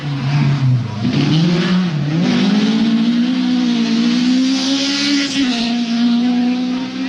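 A rally car racing on a forest special stage near Jyväskylä and Jämsä in Finland, its engine droning and rising in pitch as it accelerates, loud and sustained throughout, passing close by.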